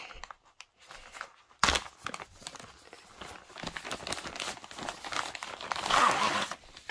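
Crinkling, rustling plastic and paper as someone struggles to open a cross-stitch craft kit package, irregular close crackles with a sharp tear near the start and louder rustling toward the end.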